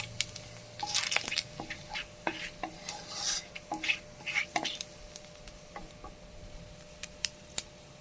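Whole cumin seeds and a bay leaf tempering in hot oil in a pan give faint, scattered crackles and ticks, with occasional soft pops over quiet kitchen background.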